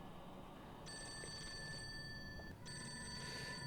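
A telephone rings inside the horror video game Fatal Frame: Maiden of Black Water, with two separate bursts of bright, trilling electronic ringing over a low background hum.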